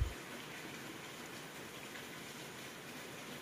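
Rain falling on a rainy day during a heavy downpour, a faint, even hiss that holds steady throughout with no talk over it.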